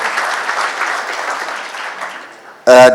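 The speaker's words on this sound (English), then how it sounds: "if everyone could just give one hand of applause to this" Audience applause at a desi chickpea outlook session of a pulses conference, a steady crowd clapping that slowly fades, then an abrupt loud burst of a voice or sound at the very end.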